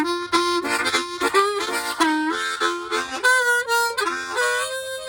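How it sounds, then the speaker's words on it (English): A small pocket harmonica played alone, with bright reedy chords and bending single notes in short breathy phrases, close and clear. "Would you like to try the harmonica?"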